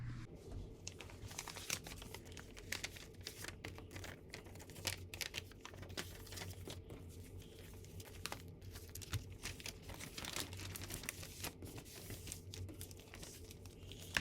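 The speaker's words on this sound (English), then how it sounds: "Let's get started and cut out some fabric." Scissors cutting through stretchy t-shirt fabric, with a steady stream of soft crinkling snips and rustles that runs throughout at low volume.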